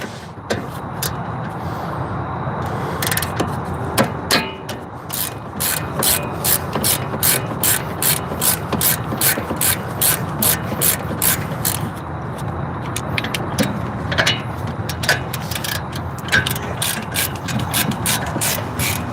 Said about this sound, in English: Yeah, these bolts are not that tight. Tight enough where I need a wrench though.